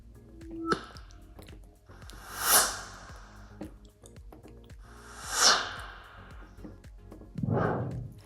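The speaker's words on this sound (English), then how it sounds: "Inside the transition folder, search for whoosh." A whoosh transition sound effect for an animation, heard as several swelling rushes that rise and fade, with a lower, denser burst near the end, alone without talk.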